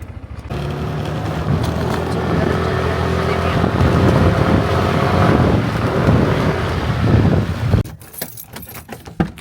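A motorcycle ridden along a road, its engine droning steadily and fairly close for most of the stretch before cutting off, followed by brief knocks and rustling.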